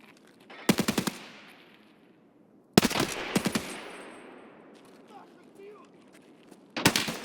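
Automatic and single gunshots from a hardcore survival shooter game ring out in sharp bursts, each with a fading echo tail and long gaps between them, loud and close with no talking.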